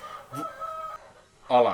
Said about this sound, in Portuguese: e o galo, para variar, está cantando aqui enquanto eu gravo o vídeo.